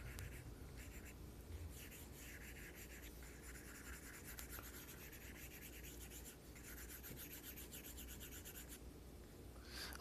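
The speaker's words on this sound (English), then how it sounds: "I hope that paper sound isn't too loud." Pencil scratching and rubbing across paper during a drawing session, a steady close-up scraping texture with continuous strokes and brief pauses, heard alone without talk.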